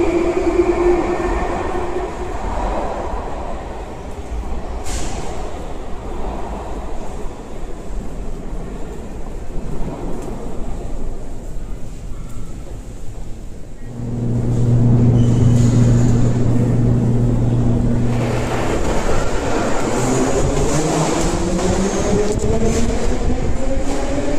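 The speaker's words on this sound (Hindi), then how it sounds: "ऑक्टोबो मेट्रो स्टेशन आहे." Inside a Moscow metro station, a train rumbles and roars loudly, with rising and falling motor whine as it pulls through and the roar swells near the end, alone without speech.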